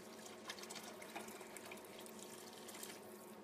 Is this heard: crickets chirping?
no